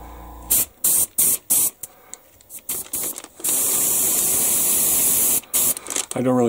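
An HP-C Plus airbrush, fed by a compressor set to 35, sprays paint onto a 1/72 Airfix B-17G model in several short hissing bursts, then one long steady spray, then a few more quick bursts.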